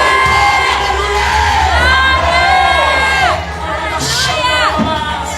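A church congregation at a Portuguese-language service shouts and cheers together, a loud, dense wash of many voices with whoops and cries that swells and lingers, filling the room.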